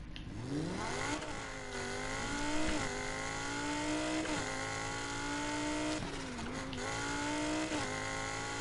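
A Lamborghini Huracan's naturally aspirated V10 in Need for Speed Heat revs hard and climbs through the gears, loud rising engine notes with quick drops at each shift, alone without talk.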